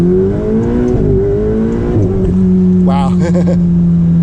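A Ferrari 488 Spider accelerates hard in first gear, its engine note climbing in a loud, close rising whine that shifts pitch as it revs; a person exclaims briefly near the end.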